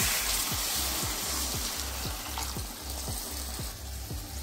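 Sizzling ghugni cooking in mutton fat, a steady frying hiss with a regular scraping stir roughly every half second, close and fairly loud throughout.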